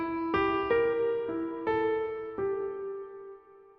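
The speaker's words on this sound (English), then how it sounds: "It's a little motif that jumps around between the notes." Single-line jazz motif leaping between notes, five or six plucked tones struck one after another at an unhurried pace, each ringing and decaying, fairly quiet and clean with no talking.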